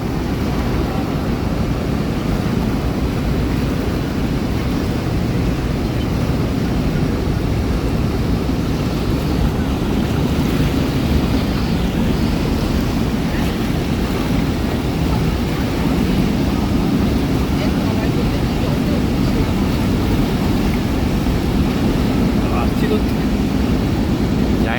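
Roaring water of the Rhine Falls waterfall in Switzerland, a loud, steady broadband rush that stays constant throughout at close range, with voices talking faintly under the torrent.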